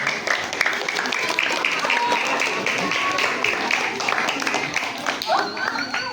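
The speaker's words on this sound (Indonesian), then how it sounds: "Tepuk tangan dong semuanya." Students in a classroom-style Islamic religious education session break into clapping, moderately loud and uneven, mixed with chatter and voices throughout.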